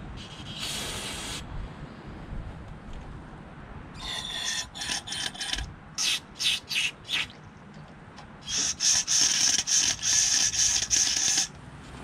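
A Tecumseh carburetor bowl from a Craftsman 5HP single-stage snowblower being rubbed clean: close, raspy scrubbing in short separate bursts, then a longer stretch of steady rubbing near the end.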